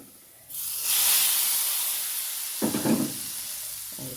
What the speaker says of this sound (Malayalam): കാശ്മീർ ചില്ലി ഇട്ടിട്ട് അതും കൂടെ ഇട്ടിട്ട് നമുക്ക് കാപ്പ് ഇതിലേക്ക് ഒഴിച്ച് കൊടുക്കാം